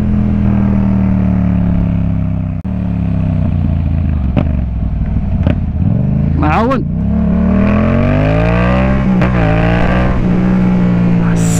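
A Yamaha MT-07 motorcycle engine idles and revs in sharp bursts, rising and falling in pitch, with someone talking over it.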